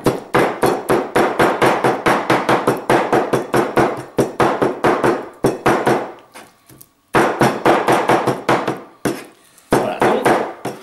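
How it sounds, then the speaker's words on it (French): A cleaver chops chicken liver on a wooden board in rapid, loud, evenly spaced strikes, pausing briefly twice before the chopping resumes. "c'est un petit peu désagréable parce que je suis obligé de taper sur une planche"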